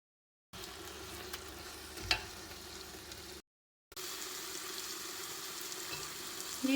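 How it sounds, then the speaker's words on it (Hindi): Grated carrot halwa with pistachios and almonds roasts in a pan, giving a continuous soft sizzle with a brief stirring knock, broken by a short silent gap. "इसको तकरीबन हम लोग 20-25 मिनट तक के लिए भूनेंगे"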